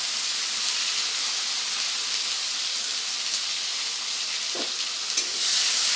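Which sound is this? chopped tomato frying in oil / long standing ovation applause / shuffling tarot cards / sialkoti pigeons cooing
chopped tomato frying in oil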